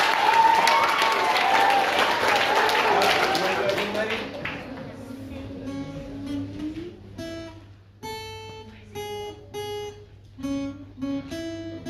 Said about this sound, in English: give Freddie a round of applause.